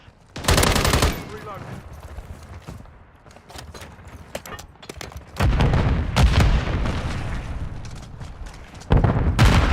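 Heavy automatic gunfire in Call of Duty Modern Warfare 3, loud bursts at the start, a long sustained barrage in the middle and another burst at the end, with quieter battle noise between.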